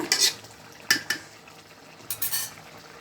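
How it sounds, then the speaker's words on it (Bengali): Fish curry with tomato being stirred in a wok, a few sharp metallic clinks and scrapes of a utensil against the pan in quick bursts, close and otherwise quiet. "একটু নাড়াচাড়া করে দিচ্ছি মাছটা আমার কড়াই রান্না হয়ে গেছে"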